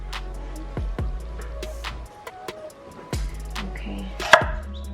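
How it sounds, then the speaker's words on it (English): A knife chops through scallions on a cutting board to separate the whites from the greens, with several sharp, close thunks spread irregularly over a few seconds. "separate the whites from the greens of the scallions"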